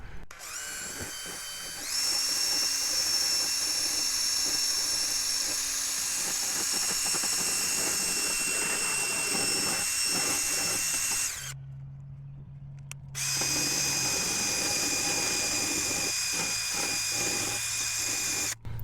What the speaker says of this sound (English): I've got a wire brush here on a drill that you can use